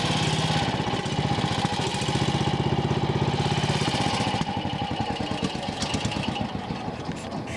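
Old British AJS CSR motorcycle engine running steadily at close range, a loud chugging idle that picks up into a quicker pulsing beat partway through, with no talking over it.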